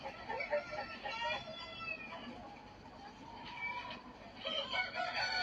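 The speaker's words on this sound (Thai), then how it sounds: "โอ้ยไก่" A rooster crows at a moderate distance, its drawn-out call rising and falling, with clucking fowl nearby and people talking over the farmyard sounds.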